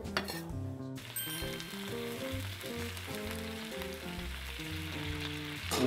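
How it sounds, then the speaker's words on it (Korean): Clams and chili peppers stir-fried in a pan, a loud continuous sizzle broken by repeated clinks and scrapes of a utensil against the pan, with no voices. "그래서 이제 여기다가 같이 볶아. 네, 고추하고."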